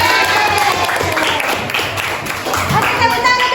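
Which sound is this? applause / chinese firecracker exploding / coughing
applause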